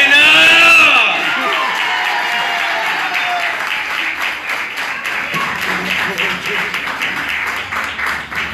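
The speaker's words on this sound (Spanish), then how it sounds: "Dale aplauso para Serra." A live anniversary show crowd applauds steadily for Serra, a loud, sustained wash of clapping with scattered cheers, opening with a brief shout.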